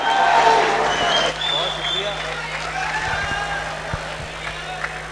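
Audience at a mushaira applauding a poet, a broad wash of clapping and crowd noise that tapers off over a few seconds behind a steady hum.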